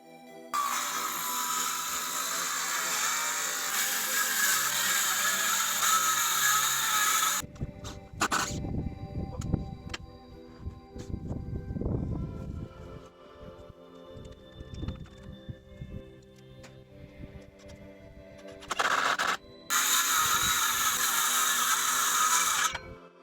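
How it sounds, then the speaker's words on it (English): A circular saw cuts wood for a desk top, starting with a loud sustained whine. Then come scattered clunks and handling noises as the fence is moved, followed by two more short bursts of the saw near the end. "I'll just cut along here with a circular saw, move the fence, and then cut that last little bit."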